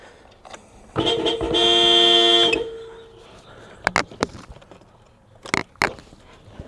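Car horn on a Nissan R34 blares as a new steering wheel is fitted: short beeps, then a sustained honk of about a second and a half, followed by several sharp clicks and knocks.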